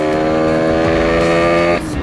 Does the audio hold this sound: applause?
no